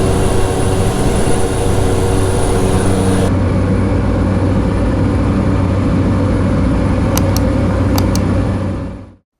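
A small airliner's engines roar loudly and steadily inside the cabin as it climbs through clouds over palm plantations, a constant close drone that cuts off abruptly at the end.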